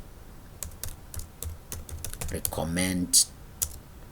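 Keys clatter on a computer keyboard as text is typed into Microsoft Word, a quick, uneven run of close clicks while a voice speaks briefly over them.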